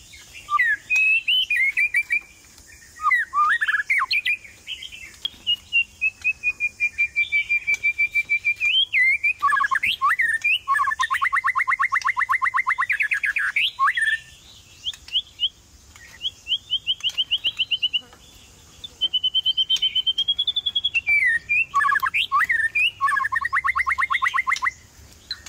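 A white-rumped shama sings a loud, close series of rich whistles, rapid trills and warbling phrases in repeated bursts with short pauses between them, with no voices.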